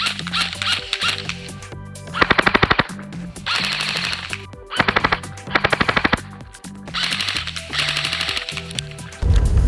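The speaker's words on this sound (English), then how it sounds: "Now we're gonna be shooting Jackson at about 50 feet away" Black Ops M4 Viper MK5 airsoft gun firing at a target about 50 feet away, several rapid automatic bursts of sharp clicking shots over a steady motor whir, loud and close, with no talk.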